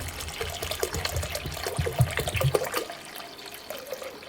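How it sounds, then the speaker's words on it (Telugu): Water pours and splashes into a pot of pigeon pea lentils, a close, uneven gurgling stream lasting several seconds before tapering off. "ఇందులోకి తగినంత వాటర్ అయితే వేసుకోవాలి"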